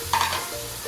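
Tomatoes tipped into a pan of frying chana dal masala with chili, turmeric, ajwain and dried coriander, giving a brief, close stir and sizzle.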